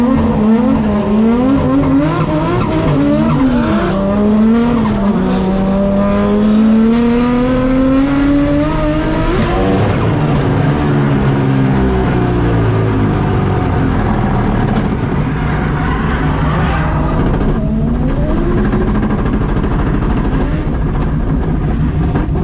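A drift car on fresh tyres takes its first laps around the FD layout, engine roaring loud and steady with pitch rising and falling through revs, and tyres squealing throughout.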